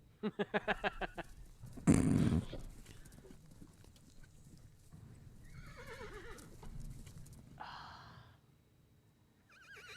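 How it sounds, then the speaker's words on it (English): A horse whinnies loudly in a quavering burst early on, then further fainter neighs follow at intervals, fairly close with quiet gaps between, sounding like a mare in heat. "Sounds like a mare in heat, actually."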